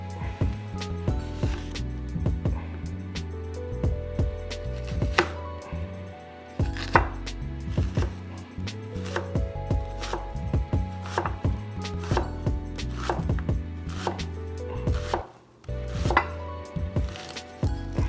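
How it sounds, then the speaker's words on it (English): A knife chops red onion on a board for keto lahmajun, a Turkish flatbread pizza, with quick rhythmic strikes in uneven bursts and brief pauses, up close with no voices. "Now is it time to chop the red onion."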